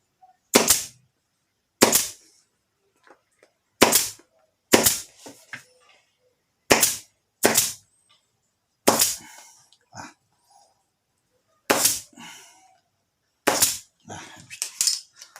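A pneumatic staple gun fires staples into a saddle, about ten sharp, loud, close cracks spaced a second or two apart, each followed by a brief hiss, with faint sounds between shots.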